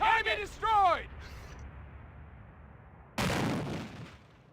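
Gunfire crackles in a burst late in Company of Heroes, a World War II strategy game, after a voice calls out over the game audio; it is a single loud, dense stretch that fades quickly.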